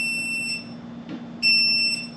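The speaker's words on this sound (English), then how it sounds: "if it beeps, that means it's hot, like it has power" A voltage tester held against a live household wire during DIY electrical renovation gives short, shrill electronic beeps, one near the start and a longer one later, over a low steady hum.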